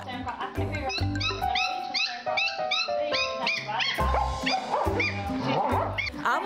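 A puppy barks and yips in rapid, high-pitched bursts close by, nearly continuous, with a whimpering tone between barks.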